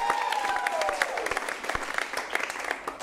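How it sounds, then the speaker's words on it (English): A studio audience at a game show breaks into a round of applause, a moderate wash of clapping with scattered louder claps and a faint descending tone early on. "Give Kaylee a big round of applause"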